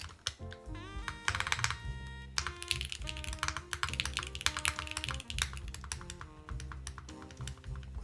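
Keys on a Mode Encore mechanical keyboard with loose keycaps clack in quick, irregular bursts, with one switch or keycap rattling, close-up over steady background music.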